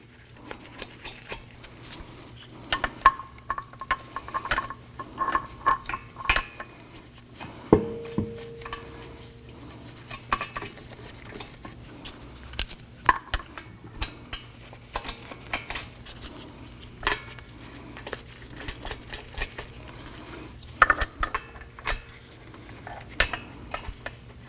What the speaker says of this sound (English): Let's go ahead and get all of our lug nuts started.